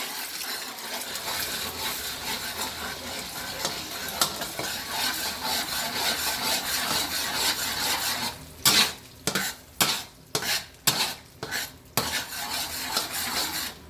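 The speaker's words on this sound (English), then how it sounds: "Get that egg cooking really good in there." An egg frying in hot oil in a pan alongside sweet and sour lemon chicken and fried rice makes a continuous crackling sizzle, followed near the end by a series of sharp metallic clatters from a utensil against the pan.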